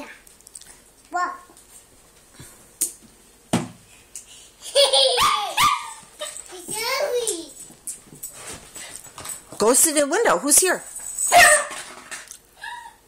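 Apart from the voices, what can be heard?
dog barking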